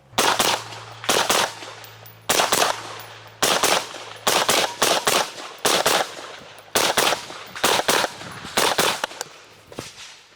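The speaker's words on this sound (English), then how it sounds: "We got to shoot this lovely thing now." A SIG Sauer MCX Surge rifle fires in rapid strings of shots, each burst loud and close. The bursts are separated by short pauses and there is no speech.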